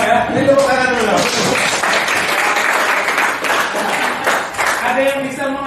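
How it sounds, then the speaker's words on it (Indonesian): Applause from a classroom audience at a teaching session, several seconds of dense clapping from many hands, with a voice talking over the start and end. "Ini tepuk tangan dulu."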